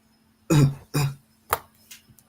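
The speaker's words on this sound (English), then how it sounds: "Trying to do my whole cough." A person coughs four times in a row, two strong, close harsh coughs followed by two shorter, fainter ones, with quiet in between.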